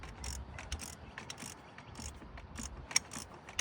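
An oil filter is tightened with a ratchet, giving quiet, rapid clicking in repeated short bursts, close to the microphone.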